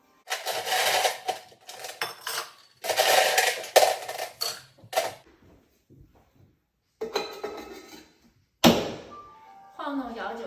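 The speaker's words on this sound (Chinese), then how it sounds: "晃动摇酒器15到20秒" A cocktail shaker full of ice being shaken for a Singapore Sling at a home bar: loud, rattling bursts of ice clattering against metal in two long rhythmic rounds, followed by softer clinks and a brief voice.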